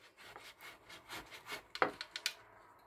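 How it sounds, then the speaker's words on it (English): Potatoes grated by hand for kofta in a home kitchen, a run of scraping strokes that end in a few sharper, louder rasps, close up with no speech. "I'm grating potatoes."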